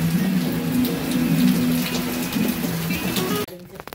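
Light drizzle falls in a steady, even patter of fine raindrops against a low background hum for several seconds, then cuts off abruptly near the end.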